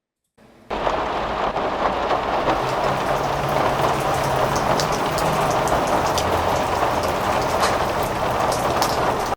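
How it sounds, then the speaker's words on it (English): Layered rain falls on leaves, trees and ground, a dense, steady, loud wash of drops that starts abruptly after a brief quieter moment and continues unbroken, with no voices. "Let's just hear those rain sounds together"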